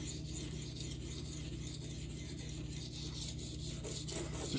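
A Spyderco CPM-15V steel knife blade is stroked across a Venev diamond waterstone, making a faint, steady, wet rasping with soft, even strokes over a low background hum.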